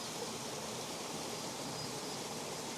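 Steady, dense rushing of a waterfall spilling over rock in a mountain valley stream, a continuous broadband roar that stays even and close throughout with no voices.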